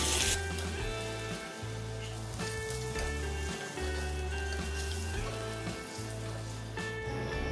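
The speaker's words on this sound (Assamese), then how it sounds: "এইফালে মোৰ মাছখিনি ফ্ৰাই হৈয়ে গৈছে।" Fish sizzles and crackles in hot oil, a steady close frying hiss throughout, with gentle music in the background.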